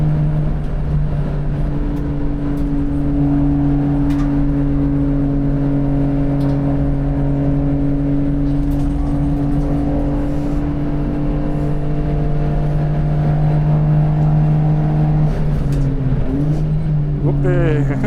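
A Suzuki Alto HV36V circling the Tsukuba circuit, its small engine droning loud and steady from inside the cabin with pitch rising and falling through gear changes and corners, with a voice speaking at times over it.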